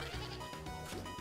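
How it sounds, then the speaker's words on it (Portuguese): Goats bleat repeatedly in the Himalayan stage of Duck Tales Remastered, game animal cries rising and falling over continuous background music, fairly loud and close. "E vai vir a leva de bodes de novo."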